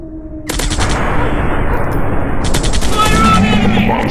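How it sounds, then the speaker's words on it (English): Sustained automatic gunfire from the mobile shooter game Commando Strike, a loud, dense barrage of rapid shots that starts abruptly and continues without pause. "I'm shooting these fools up!"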